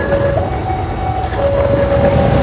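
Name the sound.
passing train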